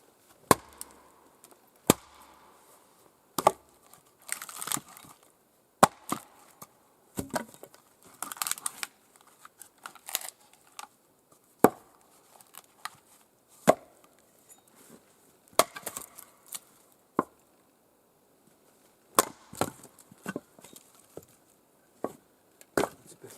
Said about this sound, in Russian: Теперь слишком мелко тоже не надо рубить.